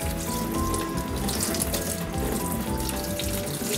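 Water from a kitchen tap runs steadily over green onions as they are rinsed, a constant close splashing hiss with no voices.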